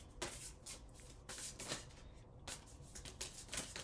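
Oracle cards from the Threads of Fate Shadow Edition deck being shuffled by hand, a run of close, papery riffling bursts in quick uneven rhythm, with no talking.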